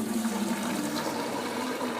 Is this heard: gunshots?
no